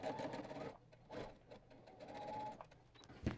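A Brother ST150HDH sewing machine back stitching a seam on bias tape, its needle whirring quietly and steadily with short pauses and faint handling noise.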